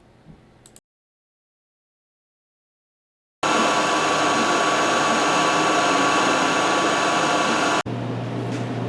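Milling machine cutting a custom aluminum spindle for an all-wheel-drive Mustang, a loud, steady, whining hum that starts abruptly after a silent gap and then drops to a lower running tone.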